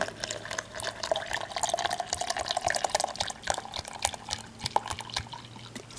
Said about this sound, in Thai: เดี๋ยวเทใส่แก้วนี่ราละค่ะจะได้ล้างไปด้วยเลย